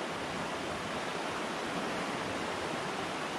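Fast, powerful water in a raging Ohio creek, running over waist deep, surges and roars close by in a loud, steady broadband wash with no break.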